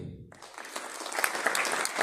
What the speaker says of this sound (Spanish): Un aplauso fuerte para Mino.